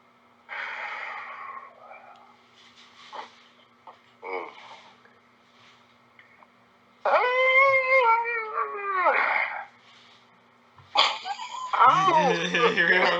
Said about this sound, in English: Hey, you got a cat?